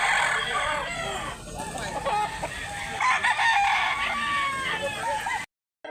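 An eight-month-old white rooster at a chicken market in Mantalungon, Barili, South Cebu crows loudly and close by in one long, wavering call.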